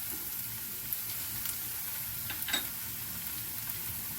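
Prawn masala with curry leaves fries in a pan with a low, even sizzle. A few soft taps and scrapes of stirring break through now and then.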